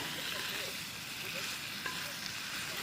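Spicy pork jeyuk bokkeum stir-fries in a pan at a forest campsite, a steady close sizzle and crackle with faint stirring scrapes throughout.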